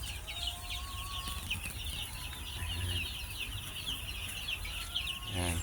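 Chickens clucking and chattering continuously at moderate distance, layered over a steady low hum, with a few louder squawks toward the end.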